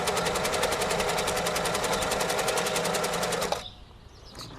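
A Singer 413 or 476 vintage sewing machine runs steadily on a zigzag stitch setting, its loud, rapid, even needle clatter going for about three and a half seconds before it stops abruptly, leaving quiet handling noise.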